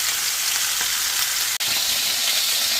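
Food browning in a hot pan before sautéing garlic and onion, a loud, dense, unbroken sizzle close up with one abrupt brief dropout, no voices.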